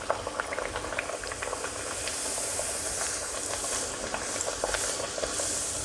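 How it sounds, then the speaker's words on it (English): A vegan tikhi puri sizzles in hot, lightly smoking oil, a steady close bubbling hiss with small crackling pops throughout and no talking. "I'm going to test if it's done by frying 1 puri."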